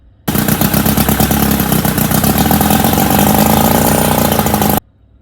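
A Johnson/Evinrude outboard motor runs out of the water on a garden hose flush attachment, starting abruptly and holding a loud, steady clattering idle before cutting off just short of the end.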